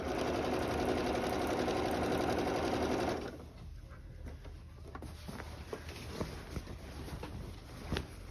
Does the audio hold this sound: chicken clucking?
no